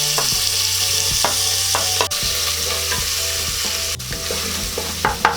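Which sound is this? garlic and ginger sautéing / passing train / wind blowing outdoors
garlic and ginger sautéing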